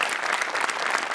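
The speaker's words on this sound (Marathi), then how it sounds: "त्यामुळे मोठेसाठी एकदा जोरदार टाळ्या" An audience in a comedy show studio claps loudly and continuously, a brief burst of dense applause with no speech over it.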